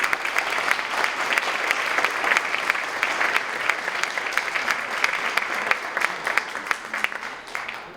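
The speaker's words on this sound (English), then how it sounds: "Let's give a round of applause to our parents." Sustained audience applause at a school district awards breakfast honoring parents, steady dense clapping from a sizable crowd lasting throughout, fairly near and even in level without speech.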